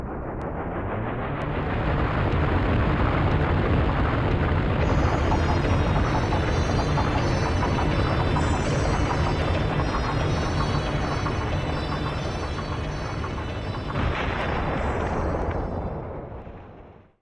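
Magical fire soaring into the sky in a giant explosion in the video game Dragon Quest V, a loud, sustained roaring blast that holds steady for many seconds before cutting off abruptly.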